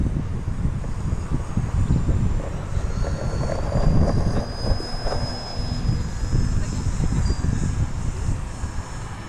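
A small radio-controlled model airplane of an unusual E-shaped design buzzes steadily overhead on its first flight, a thin high-pitched engine whine drifting above loud wind rumble and outdoor noise.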